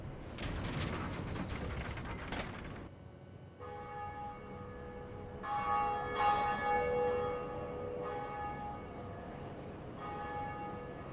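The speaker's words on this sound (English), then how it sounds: "To the very top of the bell tower. And let's pull the lever." A church bell in a bell tower in Dark Souls rings after a lever is pulled, first with a loud mechanical ratcheting and creaking of gears, then clear sustained metallic tolls that swell and linger with a ringing decay.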